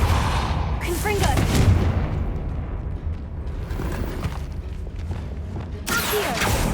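A Confringo fire spell blast in Hogwarts Legacy, cast inside a tomb, a heavy rumbling burst with low booms and crackling debris that rolls on and flares again near the end.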